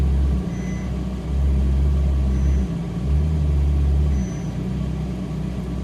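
Ferrari 458 Italia engine rumbling low and steady while reversing, a deep close-up drone that dips briefly and swells again with light throttle.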